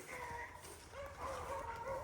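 A rabbit hunting dog on a chase gives a few faint, distant yips and bays, outdoors in rainy conditions.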